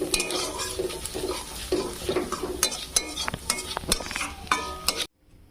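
Flattened rice (chira) sizzles and crackles in hot white oil with a little salt, a spatula scraping and clinking against the pan in steady stirring strokes, close and fairly loud, ending abruptly in silence.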